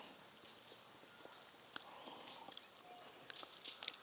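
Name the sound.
rain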